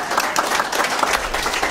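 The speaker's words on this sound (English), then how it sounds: "Big round of applause for Dave." Village pantomime audience gives a big round of applause in a hall, loud, close and continuous throughout the short burst.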